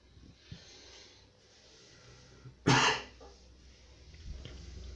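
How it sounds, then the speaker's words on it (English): A person lets out a single loud, harsh cough partway through, standing out over a quiet background hum. "Still coughing."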